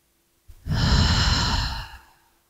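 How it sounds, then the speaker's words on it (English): A single deep diaphragmatic breath taken while sitting tall during a post-mastectomy mobility exercise: one long, close, steady inhale-exhale lasting about a second and a half, heard alone against silence. "One more time, deep breath."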